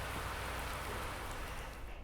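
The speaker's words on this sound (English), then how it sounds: "So it looks like it finally stopped raining for us" Steady rain falls in the Farming Simulator 19 video game, a dense, even hiss of raindrops on surfaces that stays constant and close throughout, with no voices.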